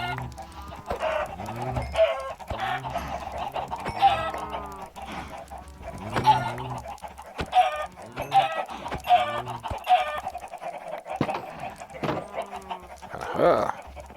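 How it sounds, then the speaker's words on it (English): Chickens in the video game Minecraft cluck over and over in short bursts across the whole stretch, fairly close and busy, with a few other faint animal noises mixed in. "unless your chickens have just become overwhelming and you don't want to listen to them as much"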